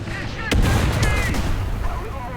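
Tiger II (P) tank cannon firing in War Thunder realistic battles, one loud close blast followed by a deep rumbling decay, with engine and battle noise steady underneath.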